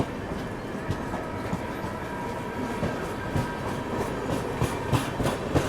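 Prayagraj Bikaner Express, pulled by a WAP-7 electric locomotive, picking up speed after a caution section, with steady rolling rumble and repeated clickety-clack of wheels over rail joints, heard from inside the train.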